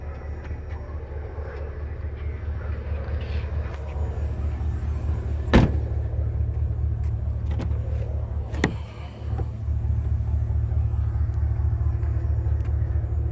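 Two Pride Car Audio 12-inch subwoofers in a car with the cover off, pumping a steady deep bass rumble throughout, broken by a couple of sharp thumps and a brief dip.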